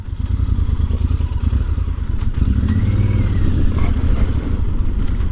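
A Yamaha Super Ténéré motorcycle engine drones steadily and loudly while being ridden, a continuous low rumble mixed with heavy wind roar and no pauses, with no talking.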